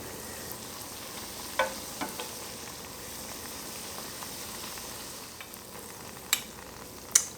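Beignet dough fries in hot oil with a soft, steady sizzle and a few sharp pops near the end, quiet and close with no talking.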